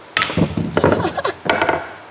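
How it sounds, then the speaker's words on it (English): A hammer pounds a worn, wasted bushing on a BMW E30 with a turbo M50 engine, several sharp metallic whacks in quick irregular bursts, close and loud, with no talk. "Let's see what a good old hammer will do to this."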